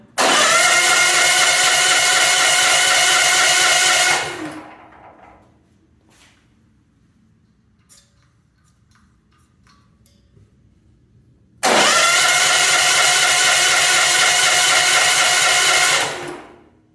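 A Champion 100520 generator running on propane with a motor snorkel starts up, roaring loudly and steadily for about four seconds before dying, then after a quiet gap with small clicks it fires again for another similar burst.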